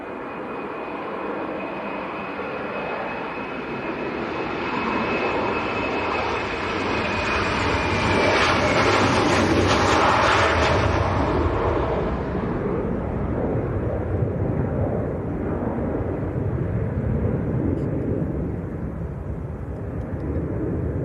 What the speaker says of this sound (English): here we go, Jet 2 on the roll. This one's an 800 series.